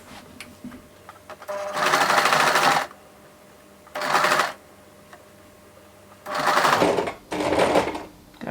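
Sewing machine stitching the gathered edge of dress fabric, running in four separate bursts of a second or so each, with quiet pauses between them.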